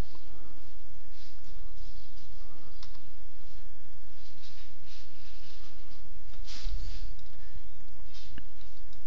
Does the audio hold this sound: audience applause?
no